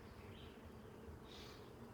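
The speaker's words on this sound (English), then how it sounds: "There's a bee on my veil." A honey bee buzzes right at a beekeeper's veil beside a hive, a steady, close, faint drone with no voices.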